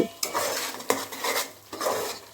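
Ghee being stirred in a pot at home: a spoon scrapes and clinks against the metal in three bursts, with a faint sizzle underneath, close and fairly loud.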